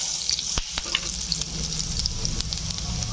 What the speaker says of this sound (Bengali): এলাচ লবঙ্গ গোটা জিরে আদা ফোড়ন দিচ্ছি